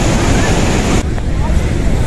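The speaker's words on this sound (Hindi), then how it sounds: "साइड में पानी देख सकते हो कितना अल्टीमेट लग रहा है हमारा झरना" Steady broadband rush of a mountain waterfall on the pilgrimage trek to Manimahesh, a loud continuous wash of water noise with wind buffeting the microphone and no break throughout.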